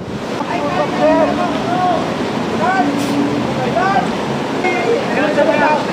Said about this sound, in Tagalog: Sa sobrang lakas ng agos ng tubig mula sa umapaw na ilog